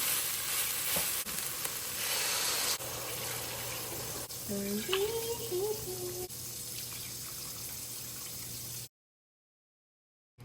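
Seasoning sizzling in a hot pan before liquids go in, a loud continuous frying hiss with a few stirring scrapes and brief tonal squeaks midway, cutting off abruptly near the end.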